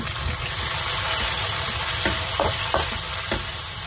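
Garlic fries in oil in a pan for pancit, a loud, continuous close sizzle with a few soft stirring scrapes.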